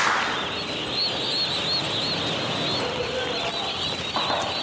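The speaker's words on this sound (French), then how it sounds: "Maferima réceptionne des dindonneaux venus de la France." Turkey poults imported from France chirp in a busy, continuous chorus of high peeps on arrival at a turkey breeding business in Côte d'Ivoire, steady and fairly close throughout.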